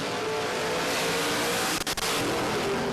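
Drag racing cars launching at a NSW championship meet, an Austin A40 Ute and a 1985 Mustang with a small-block Ford, a loud sustained engine roar with two brief dips near the end, no voices.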